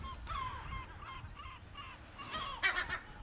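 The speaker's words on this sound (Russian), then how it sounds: "Чайки нервничают, у них тут гнезда." Seagulls call repeatedly from close by near their nests on a French island, harsh wavering cries in a loose series that grow more intense toward the end, with wind and ambient noise underneath.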